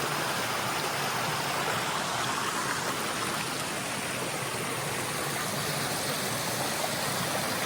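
Stony Brook runs beside an Appalachian Trail crossing in Vermont, a loud, steady broadband rush of moving water that stays close and unbroken throughout, with no talk.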